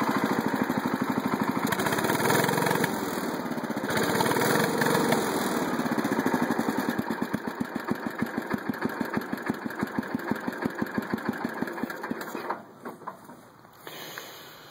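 A tractor engine running close by, a loud steady drone that slows into a rhythmic, chugging idle with distinct pulses before fading near the end.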